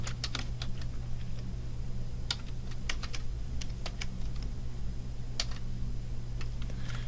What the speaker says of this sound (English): what I need to do here in the current password section is to enter the temporary password again from the